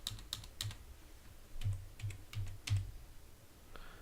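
Keys clattering on a computer keyboard while text is entered into a Microsoft Excel spreadsheet, a quiet close series of irregular clicks and taps with short pauses between bursts.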